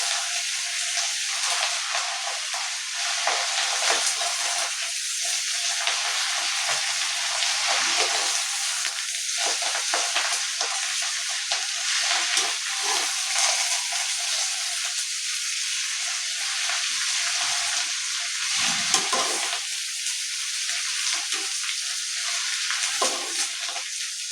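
Curry leaves deep frying in hot oil, a loud continuous crackling sizzle that holds steady for the whole stretch with small bursts of popping, close by and with no voices.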